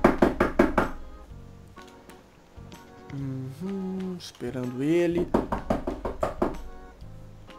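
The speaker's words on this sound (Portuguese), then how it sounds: "deixa eu bater aqui na porta, né." Knuckles rap on a door in a quick run of sharp knocks, then a voice speaks briefly before a second rapid burst of knocking follows.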